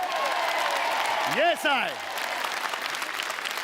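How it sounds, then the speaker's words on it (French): Applause from a TV game show studio audience runs steadily throughout, with a brief whooping or sliding voice sound in the middle and a few short spoken words. "Et je voudrais qu'on fasse un tonnerre d'applaudissements à mon pote Anthony"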